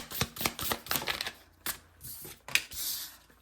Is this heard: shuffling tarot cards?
yes